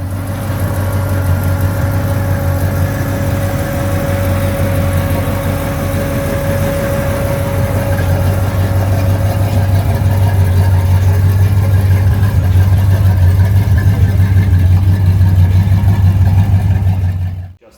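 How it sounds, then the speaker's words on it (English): Idling engine of a 1962 Chevy Nova wagon with a heavy cam, a loud, steady, choppy low rumble that runs continuously close to the microphone without talking, then cuts off abruptly at the end. "It had a really nice heavy cam idle."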